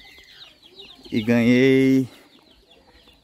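Chickens in a rural yard where pullets and chicks are raised for sale, with a loud, close drawn-out squawk standing out between quieter clucks and birdsong, while a person speaks briefly.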